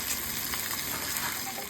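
Mackerel fish frying in a pan: a steady, even sizzle with crackling spatter, close and moderately quiet, with no voices.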